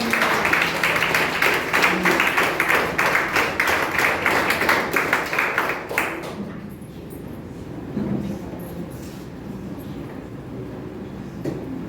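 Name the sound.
church congregation applauding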